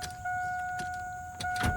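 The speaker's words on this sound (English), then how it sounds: "turn the truck on," A truck engine idles steadily with a constant hum and a high electrical whine, while a couple of faint clicks and thumps come from inside the cab during shifter replacement.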